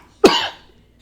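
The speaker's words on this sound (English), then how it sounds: "Cough that out." A single sharp cough from a person, close and loud, fading quickly with no talking around it.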